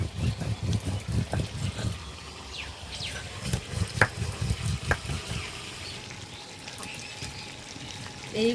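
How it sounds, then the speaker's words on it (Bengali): Broiler chicken frying in oil with lemongrass, a close bubbling sizzle with rhythmic stirring pulses that fades toward a quieter simmer near the end. "মাংস কষানো হয়ে গেছে পুরোপুরি।"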